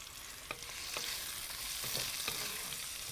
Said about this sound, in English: So that's sizzling away nicely.